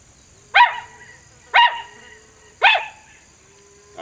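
Three short, sharp yelping bursts from a coyote diaphragm call, evenly spaced about a second apart over quiet background hiss. The human-made imitation sounds bark-like, without long howls.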